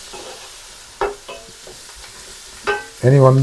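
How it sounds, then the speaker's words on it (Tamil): Curry leaves and onions sauté in a pan for mutton curry, with a few scraping stirs and a faint sizzle beneath them, followed by a brief spoken phrase at the end. "கருவேப்பிலாம் போட்டு வந்து வதக்கப்படுது நல்லா."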